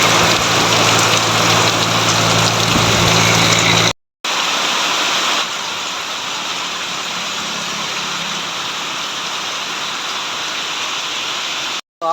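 Heavy rain pours in a loud, steady broadband roar, briefly cut off once and then continuing slightly softer to the end.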